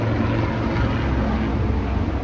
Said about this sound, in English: Got an army plane coming by.